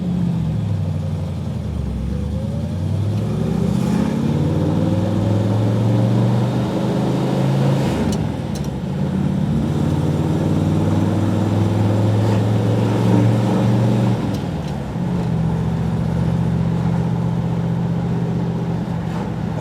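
A 1969 Chevelle 300 Deluxe SS396 pulls away in first gear after the clutch is let out, its stock V8 engine loud and close, rising in pitch as it revs, dropping briefly at a shift, then climbing again.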